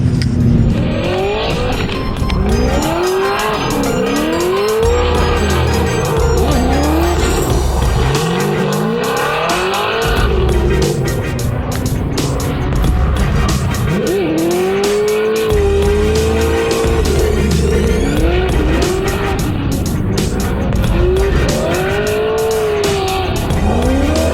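A Formula Drift car warming its tires in a confined area, with loud, continuous rising-and-falling tire squeals over a roaring, revving engine throughout.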